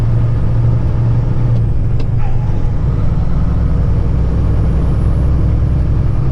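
Kenworth heavy truck pulling away slowly in low gear, a loud sustained diesel drone with a low steady hum and a few higher whines on top, cab noise throughout.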